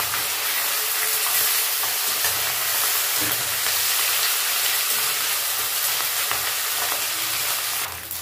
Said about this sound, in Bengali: তো মাছ ভাজাটা হয়ে গেছে, আমি এখন খুব সাবধানে উল্টে দেবো